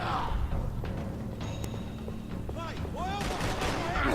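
Gunfire from the video game Max Payne 3 comes as bursts of shots and impacts mixed with game sound effects, with a voice talking over them.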